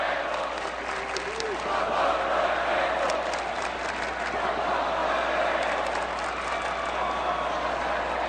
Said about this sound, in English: Got a little "Let's Go Vandals" chant going.